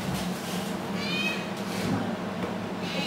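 A cat gives a short, faint meow or two against a constant noisy room background, with no talking.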